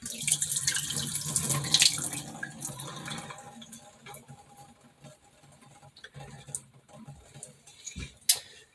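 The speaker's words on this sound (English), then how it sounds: "I will usually rinse them twice just to make sure that we've gotten anything funky going on" Sprouting seeds rinsed in a strainer under running tap water, a loud splashing rush at first that eases into softer trickles, drips and light clinks.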